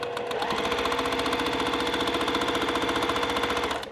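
A sewing machine stitches half-square triangle quilt pieces together, running in a fast, even mechanical chatter of rapid needle strokes throughout and slowing slightly at the very end.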